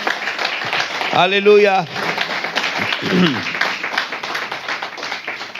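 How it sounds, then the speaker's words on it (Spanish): Congregation clapping in a church, a steady patter of many hands running through the whole stretch while a voice calls out over it. "Dale un aplauso fuerte, fuerte, fuerte al Señor."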